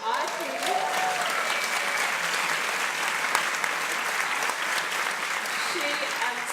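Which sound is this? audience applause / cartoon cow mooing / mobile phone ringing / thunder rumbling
audience applause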